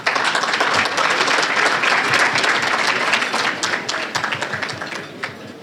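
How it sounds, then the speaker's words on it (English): An audience at a small business awards ceremony applauds an honor guard, dense crowd clapping that stays loud and steady before gradually thinning and fading toward the end. "Give them another round of applause."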